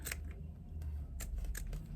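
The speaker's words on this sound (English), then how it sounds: "my scissors are sort of laid sideways on, just to give me that mitered edge on the edge of the foam" Fabric scissors snip through foam along a sewing seam allowance, blades laid sideways to cut a mitered edge for a twist pouch; several crisp, close cuts come in quick bursts.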